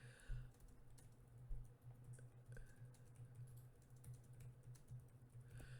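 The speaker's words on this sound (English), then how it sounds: "I'm typing around a microphone, so it's clumsy." Fingers tap on a computer keyboard near a microphone in quick, uneven bursts of soft clicks, faint and alone with no talk.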